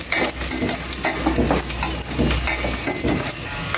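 Garlic sautés in a hot pan, a steady close sizzle and spatter with occasional stirring scrapes throughout, no talking.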